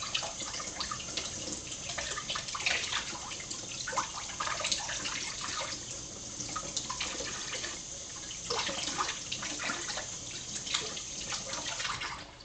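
Celery sticks are washed under a running kitchen tap, a steady close rush of water with splashing and dripping variations as the stalks move through the stream, with no voices.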